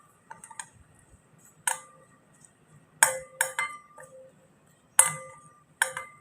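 A spoon mixing beef marinade masala in a bowl, giving sharp, bright clinks against the dish in scattered pairs and single taps, with soft scraping between them.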